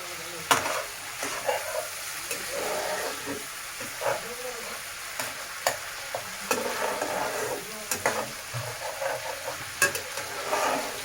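Boiled jackfruit and potatoes sizzle and fry in a pan for a Bengali kalia, with a steady hiss broken by repeated scraping stirs and clinks of a spatula, close and moderately quiet.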